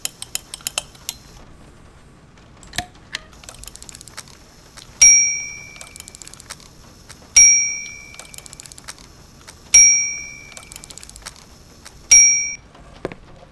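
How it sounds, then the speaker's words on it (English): Bell struck over and over in the adventure game Syberia: four loud metallic rings, each fading slowly, spaced about every two and a half seconds, with a few light clicks and taps before them. "Hammering the shit out of that bell."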